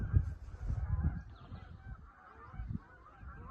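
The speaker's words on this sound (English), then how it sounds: "that is a lot of geese" A flock of geese honking in a steady overlapping chatter, loudest at the start and fading a little, with a short burst of calls near the end.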